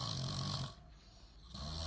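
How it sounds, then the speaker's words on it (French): A man snores loudly, with deep rasping inhalations at the start and again near the end and a quieter pause between them. "Il ronfle."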